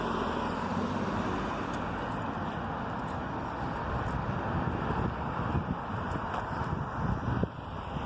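A car passes along a road outdoors, a broad rumbling rush of tyres and engine that swells and fades, heavily buffeted by wind noise on the microphone, with no talking.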